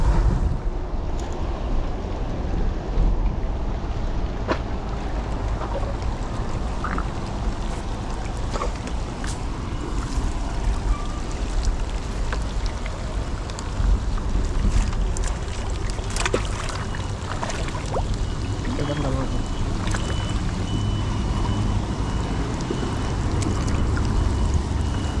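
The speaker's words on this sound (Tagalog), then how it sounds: "lakas ng ulan." Heavy rain with wind makes a dense, steady roar that holds evenly throughout, with scattered sharp ticks and no voices.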